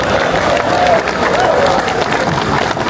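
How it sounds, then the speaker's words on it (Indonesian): Crowd applause at a ministerial business gathering, dense steady clapping from a full room with light cheering, continuous and fairly loud, with a voice briefly audible over it. "Kalian ini kok tepuk tangannya pelan-pelan"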